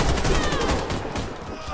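Rapid bursts of automatic gunfire in the online shooter Warface, sustained and dense throughout, with sharp repeated reports and a faint voice underneath.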